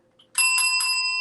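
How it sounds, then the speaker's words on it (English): A bright metallic bell, like a bicycle bell, rings loudly three times in quick succession, each strike leaving a sustained ringing tone that carries on to the end. "Let's ring some bells for Anne-Marie."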